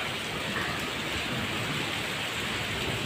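Heavy rain pours steadily during the first rain of 2023 in India, a dense, continuous wash of drops hitting surfaces nearby, loud and unbroken for the whole stretch with no voices.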